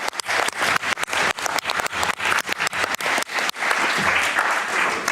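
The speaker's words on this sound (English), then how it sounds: "Let's give them an applause" Audience in a meeting room breaks into sustained applause, with dense clapping swelling and dipping in bursts before settling into a steady, loud wash of hands for several seconds.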